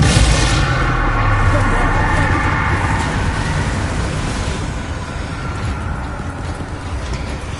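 Heavy, continuous blasting and rumbling from repeated Confringo fire spells in Hogwarts Legacy, a loud dense roar of explosions with no clear gaps between them.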